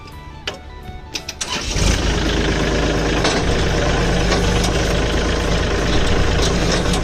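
A used Kubota L3608DT three-cylinder diesel tractor cranks with a few clicks, then fires and settles into a loud, steady close-up idle rumble.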